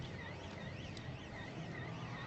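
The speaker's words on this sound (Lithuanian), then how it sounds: "Signalizacija sukaukia." A Lotus Elise car alarm wails with a steady, repeating electronic warble that rises and falls. It sounds continuously at moderate loudness, with no voices over it.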